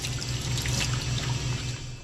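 Warm water runs steadily from a tap fed by a newly installed pump in a vintage camper, with a continuous splashing hiss and a low rhythmic pump pulsing underneath, close and unbroken.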